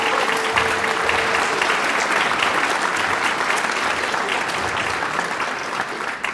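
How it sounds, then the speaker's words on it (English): Audience at a Farmington High School orchestra concert claps in a dense, steady round of applause that fills the hall, staying loud throughout and tapering only slightly at the very end. "So round of applause for them, please."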